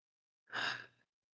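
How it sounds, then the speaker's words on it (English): A single soft, deep breath during guided meditation, a short airy exhale lasting about half a second, close and quiet against silence. "Let's take a deep breath together."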